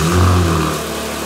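Motorbike engine revving loudly up close, a strong throaty roar that rises briefly then eases back toward idle.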